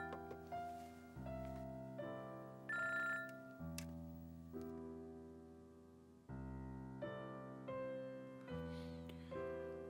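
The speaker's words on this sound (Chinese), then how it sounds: "好了，打电话了。" A telephone rings in a drama scene, with repeated electronic ring cycles of bright tones and short pauses between them, steady and fairly close, with no one talking.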